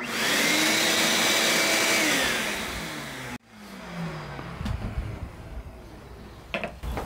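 Shop dust collector fitted with a Dust Deputy cyclone, running as a loud steady whine and roar that winds down after about three seconds, followed by quieter knocks and handling sounds, no talk.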